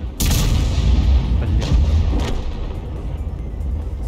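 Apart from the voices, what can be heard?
gunshot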